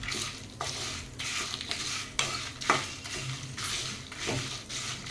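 A spoon scrapes and stirs onions with salt, turmeric and asafoetida in a pan, repeated rhythmic strokes over a soft sizzle, close and alone.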